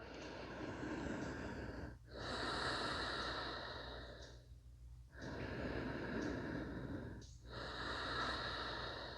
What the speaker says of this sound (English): Just take 2 or 3 breaths here to feel how you feel after your breath work.